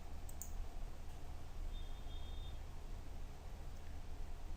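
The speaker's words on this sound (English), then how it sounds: "click on OK" A single faint mouse click on a computer sounds once near the start, then only a quiet, steady background hiss follows.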